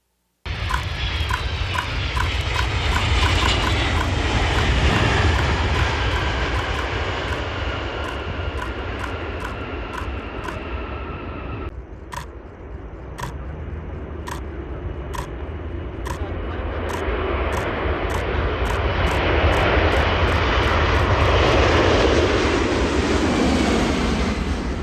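A United Arab Emirates Boeing 747 jet roars loudly and steadily, its engine noise swelling and fading slightly as it passes, with a sharp click partway through and the roar building again.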